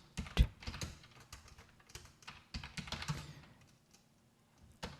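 Typing on a computer keyboard to enter a script prompt, with quick irregular key clicks close by, alone, a few louder taps standing out.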